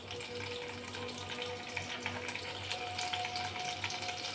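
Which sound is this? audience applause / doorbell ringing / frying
frying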